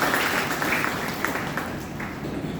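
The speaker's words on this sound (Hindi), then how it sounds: "तालियों की गड़गड़ाहट से स्वागत करना चाहती हूँ" An audience at a women's college poetry recital in Patna applauds steadily, a dense wash of clapping that carries on for the whole stretch without pause.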